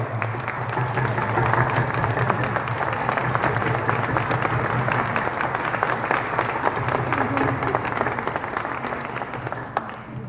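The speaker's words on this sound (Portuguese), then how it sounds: "Vamos dar junto uma grande salva de palmas." A church congregation gives a long, steady round of applause at a Sunday service, a dense, even wash of many hands clapping that fills the space with a low hum underneath.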